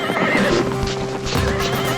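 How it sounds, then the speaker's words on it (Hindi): A small cartoon horse comes running up with quick, close clip-clopping hooves and a loud whinnying neigh, with no talking over it. "तभी एक छोटा सा घोड़ा भागकर आता है"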